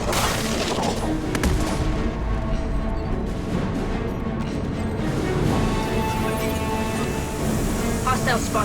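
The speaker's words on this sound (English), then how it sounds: "Firing a high impact shot. This should soften them up." Weapon fire from the Mass Effect 2 video game, with high impact shots and concussive blasts: a dense, continuous barrage of gunshots and crashing impacts, loud and unbroken throughout, with game voice talk over the combat.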